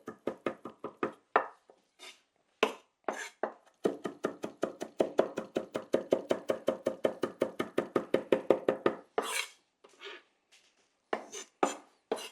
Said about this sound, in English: So right now I'm just working the knife through the parsley.